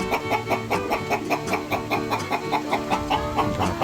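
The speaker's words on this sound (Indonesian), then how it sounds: "Ini kelihatan ayamnya sudah pada lapar, kepalanya pada keluar semua." Hungry chickens on a poultry farm before feeding, a dense chorus of rapid, rhythmic clucking from many birds at close range, continuous and fairly loud, with no talking.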